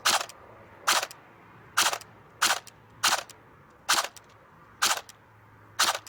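CYMA AKMS full metal airsoft AEG with wooden stock fires a series of sharp single shots, seven evenly spaced semi-auto cracks about a second apart, close and crisp over a low steady hum.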